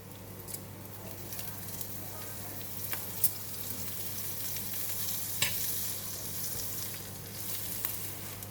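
French toast of egg-soaked bread frying in butter in a pan gives a steady, close sizzle with scattered crackles and small pops throughout.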